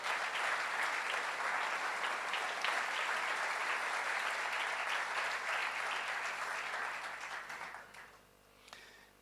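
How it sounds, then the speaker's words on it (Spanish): A congregation in church applauds the Lord, a dense, even wash of clapping that holds steady for several seconds and then fades out near the end. "Dale un aplauso al Señor, por favor."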